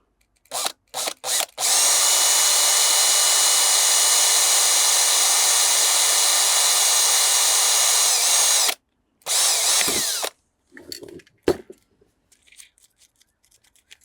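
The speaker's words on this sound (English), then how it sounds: "So I'm using a wood drill bit" A power drill with a wood drill bit bores into wood in one long steady whine after a few short trigger bursts, then stops and clatters briefly.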